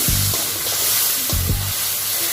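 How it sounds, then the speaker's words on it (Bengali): Potato pieces sizzle loudly in a hot pan while being stirred, with a constant close frying hiss broken by two scraping stirs of a utensil against the pan. "আলুটা একটু আমি একটু মানে নরম করার জন্য একটু কষিয়ে দিচ্ছি"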